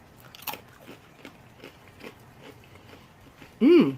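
Crisp bites and crunchy chewing of a salted roasted potato, a string of soft close crunches in a quiet setting, ending with a brief voiced sound.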